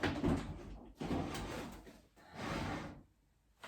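Three close, scraping slides of a stiff wooden drawer being forced into a dresser, each a rough grinding push followed by a short pause.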